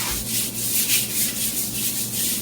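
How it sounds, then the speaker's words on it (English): Hand sanding across an epoxy-coated cedar countertop, a steady close scratchy rub repeating in even back-and-forth strokes with no talk. "so I'll just be doing hand sanding. Just basically rough it up some."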